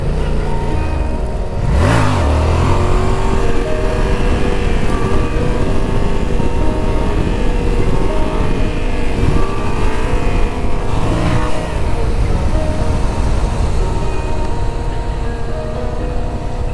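A Yamaha XSR700 motorcycle with its stock exhaust revs hard during wheelie practice on a cold fall day, its engine note loud and close, with sharp throttle blips rising and falling over a continuous growl.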